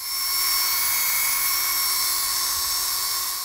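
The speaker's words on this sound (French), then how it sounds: "Pour faire le trou, là, moi j'utilise une bite de drill 1/16. Je mets ça au bout d'un tournevis électrique" An electric screwdriver fitted with a 1/16 drill bit drills a hole while a front grille is installed on a 2020 Can-Am Spyder RT, making a steady high-pitched whine for a few seconds.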